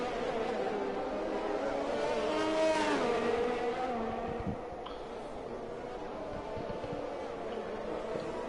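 Formula-style race cars whine along a sim-racing track at the Russia circuit, engines revving high and sweeping in pitch as they pass close by, under steady commentary.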